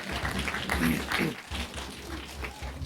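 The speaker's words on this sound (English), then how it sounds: "Yes, we can clap at this event." Audience clapping at a celebration of life memorial, a moderate patter of hands from a small gathering over a low background rumble, lasting a few seconds.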